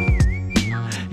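A short sliding whistle in a French rap track sits over beat hits and bass. The tone holds steady, dips, and then falls away at the end of the phrase.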